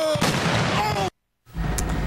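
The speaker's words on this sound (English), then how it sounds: "New video now at 11 o'clock shows the moment a derailed train exploded in Baltimore" A derailed CSX freight train explodes in Baltimore after colliding with a trash truck, a loud heavy blast followed by a brief cut to silence, then a further rumbling boom.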